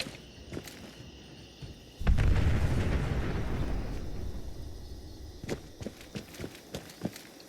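A big explosion in Fallout 76 bursts in with a sudden heavy boom, then rumbles and decays over several seconds before scattered footsteps and small clicks take over.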